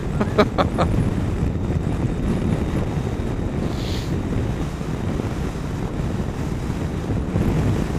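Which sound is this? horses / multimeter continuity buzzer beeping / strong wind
strong wind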